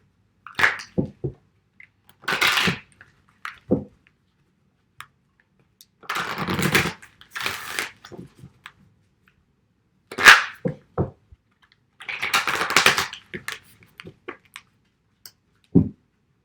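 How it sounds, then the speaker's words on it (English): Moonology oracle card deck being shuffled by hand in several short bursts of crisp riffling and flicking, with quiet pauses between, close and alone. "I just want to shuffle a little bit on camera."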